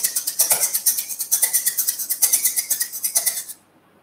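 An egg shaker shaken inside cupped hands that open and close, giving a rhythmic, close rattle whose brightness swells and dulls in a regular pattern before it stops.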